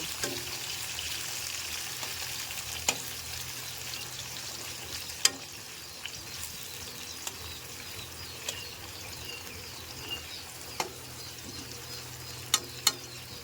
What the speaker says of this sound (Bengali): কুমড়োগুলোকে আমি হালকা আঁচে নেড়ে চেড়ে ভেজে নেব